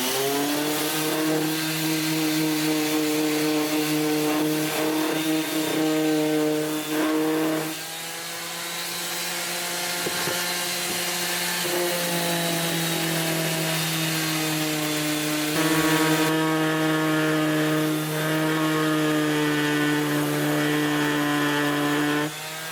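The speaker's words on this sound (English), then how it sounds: "I'm going to remove the remainder of material here with some 80 grit sandpaper" Wood is sanded with 80 grit sandpaper, a steady humming whine with a rough rasping texture running continuously and close, dipping briefly once before carrying on.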